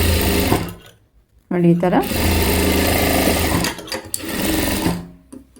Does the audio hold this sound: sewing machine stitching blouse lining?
yes